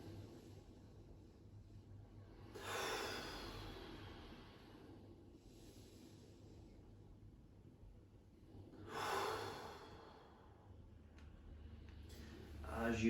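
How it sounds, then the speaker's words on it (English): Deep, slow breaths during a gentle full-body stretching and movement routine, two long audible exhales a few seconds apart, close to the microphone over a quiet low background hum. "3 deep breaths, force into the floor."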